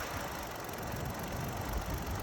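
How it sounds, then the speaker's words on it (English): A non-running BMW E46 engine idles steadily with a low, even rumble and faint knocking, no speech, holding constant throughout. "It's still idling. It idles the exact same."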